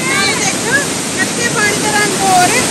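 Fast-flowing river water rushes as a loud, steady broadband roar near the bank on a trip through the Alps toward Livigno, with faint voices in the background.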